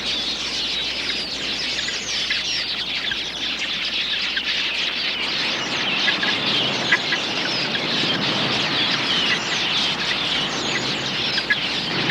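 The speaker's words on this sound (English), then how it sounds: "A flock of quilias makes a hit-and-run raid on the waterhole." A flock of quelea birds raiding an African waterhole makes a dense, continuous chatter of high chirps and twitters, loud and close throughout with no talking.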